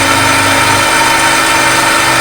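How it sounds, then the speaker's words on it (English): A tool and cutter grinder's freshly dressed wheel grinds a five-tooth cutter with a steady, even whine and motor hum, loud and continuous with no chatter. "this now is the same grinding wheel after dressing"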